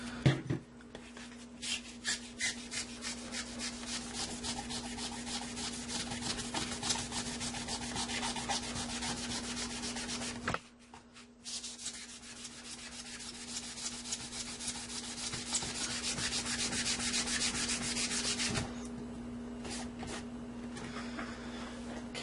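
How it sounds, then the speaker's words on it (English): A magic eraser dampened with alcohol scrubs pen marks off an NES game cartridge label, rapid rhythmic back-and-forth rubbing strokes, close and steady, pausing briefly midway before resuming. "A little bit more alcohol in a dish. We use another piece of magic eraser."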